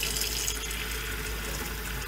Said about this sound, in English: I put about 1 quart of water in here